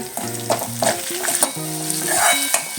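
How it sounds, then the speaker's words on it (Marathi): Masoor dal masala with tomatoes is stirred in a hot pan, a spoon scraping in short repeated strokes over a soft sizzle, close and alone. "सगळं छान असं मिक्स करून घ्या"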